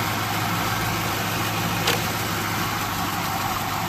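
A 4th generation Chevrolet Camaro engine idles with a steady, even hum and low rumble, close and constant throughout, with a brief faint tick midway and no voices.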